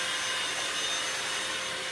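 A vacuum sucks old substrate out of a 90-gallon aquarium, a steady close whooshing roar with no break or talking.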